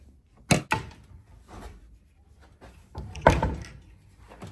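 Hotel suite drawers opened and closed, giving a few sharp wooden knocks and slides close by, with a pair of quick bumps early and another louder clunk near the end.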